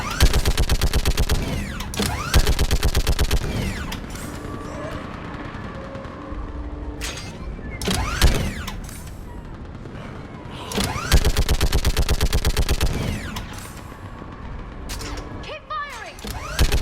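Sustained automatic gunfire in the sci-fi shooter game Mass Effect 3, set on Thessia, loud rapid bursts with short pauses between volleys, joined by mechanical clanks and impacts across the battle.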